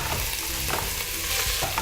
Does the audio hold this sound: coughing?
no